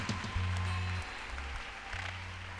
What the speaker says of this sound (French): Applaudissons encore une fois.